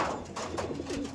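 Pigeons of a long-flying breed coo in a low, throaty way, with a couple of soft coos rising above a steady background murmur of birds.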